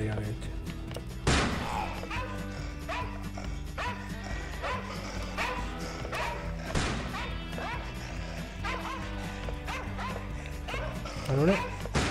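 Dogs bark repeatedly in a video game amid gunfire-like whacks and crashes, with busy game music and effects throughout and a voice talking over parts of it.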